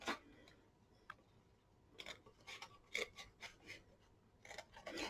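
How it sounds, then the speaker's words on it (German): Scissors snip away excess paper pieces while assembling a Stampin' Up! double top split box for greeting cards, giving quiet, close crisp cuts and rustles in an irregular rhythm. "Und schneide auch hier die überflüssigen Stücke raus."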